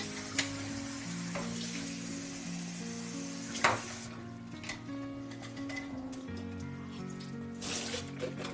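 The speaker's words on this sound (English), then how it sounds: "While I'm waiting for that to fry" Cheesy churros frying in hot oil, a steady soft sizzle running throughout with occasional small clicks and pops, no voices over it.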